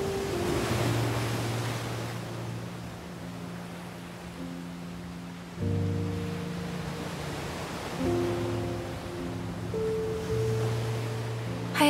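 Ocean surf breaking on a long sandy beach, a steady wash of rolling waves with wind noise, loud and continuous, with soft music tones running underneath.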